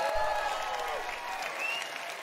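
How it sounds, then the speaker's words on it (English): Steady applause from an audience at the Bethesda E3 2018 press conference fills the space, dense and continuous, with a faint tonal hum beneath. "Can I get some clapping?"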